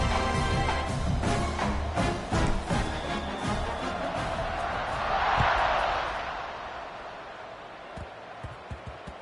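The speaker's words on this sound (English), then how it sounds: "this crowd is buzzing after that last score" A football stadium crowd at Wisconsin vs Washington buzzes after a 49-yard touchdown run, a broad murmur that swells to a roar midway and then fades, with a commentator's voice over it.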